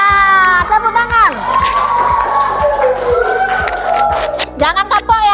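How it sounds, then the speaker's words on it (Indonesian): A class of children in a mathematics lesson claps and cheers loudly, with shrill shouts and whoops over a steady, even clapping beat that runs the whole time and rises again near the end. "Nah, tepuk tangan."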